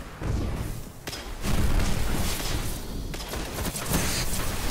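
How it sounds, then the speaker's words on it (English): Grenade blasts and weapon fire in the video game Destiny, booming bursts layered over continuous loud game noise with no clear talk. "Grenade."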